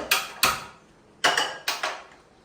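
A metal kadai set on the stove for dry-roasting horse gram, four sharp metallic clanks in two pairs, close and ringing briefly, with no talking.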